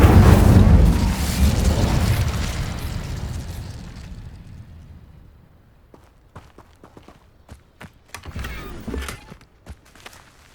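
A fire spell cast in Hogwarts Legacy bursts out as a loud, roaring boom that slowly fades over several seconds, followed by scattered light footsteps and small pops.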